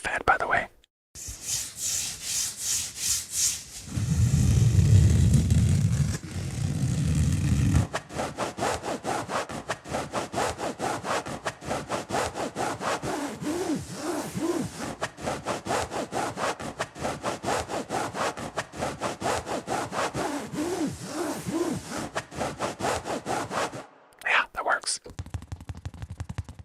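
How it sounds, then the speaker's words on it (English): Rhythmic, close scrubbing and rubbing strokes, like metal being cleaned and a floor being scrubbed, run through an ASMR session, with a denser, louder stretch early on and soft whispering throughout. "I just hear someone like cleaning some metal and then scrubbing a floor."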